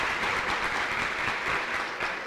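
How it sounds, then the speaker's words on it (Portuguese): Audience applause for a quartet of presenters at a talk on ecological restoration in the Rio Doce basin, continuous dense clapping from a full room. "De novo, uma salva de palmas para o quarteto."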